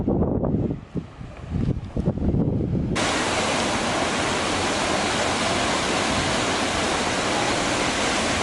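Rushing water roars loudly and steadily after a few seconds of quieter outdoor sound, a waterfall close by in Iceland.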